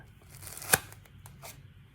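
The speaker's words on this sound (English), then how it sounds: "Keep going with the scissors." A sharp scissor snip cuts through a foam pool noodle, one loud close crunch followed by a few softer rustles and small snips.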